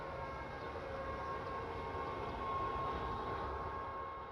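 A train in Train Sim rolling through a station stop near Boppard on the Koblenz to Frankfurt route, a steady moderate rumble of wheels and motor with a thin sustained whine, no talking.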